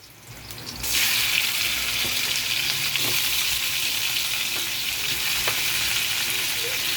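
Chicken feet and necks sautéing in a pan for adobo, a loud, steady sizzle that bursts up suddenly as the pieces go in and holds dense and continuous with faint stirring, no voices.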